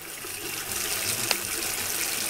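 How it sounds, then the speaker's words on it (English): Water runs from a tap in the Hide The Corpse VR game, a steady close splashing gush that stays level for a couple of seconds with no voices over it. "can I run some water?"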